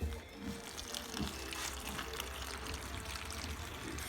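Water poured steadily into a Rescue Big Bag fly trap outdoors, a continuous soft splashing and trickling under a breezy background.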